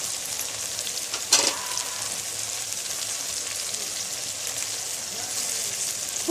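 Brinjal chutney ingredients sauté with turmeric in a pan, an even dense sizzle throughout with one sharp utensil clink early on and occasional light stirring.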